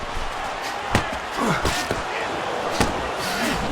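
Boxing punches landing in Fight Night Champion during a bare-knuckle bout between Miguel Cotto and Joe Calzaghe: several sharp thuds at an irregular pace under crowd noise and commentary.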